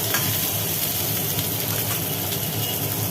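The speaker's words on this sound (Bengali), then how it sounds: "আলু তো ভাজা হচ্ছে" Potatoes frying in a pan, a steady dense sizzle and crackle up close, with occasional stirring and no talking.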